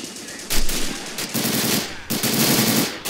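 Sustained machine gun fire rattles in the Men of War Assault Squad 2 battle game, two long bursts of rapid shots running almost continuously with a brief break between them.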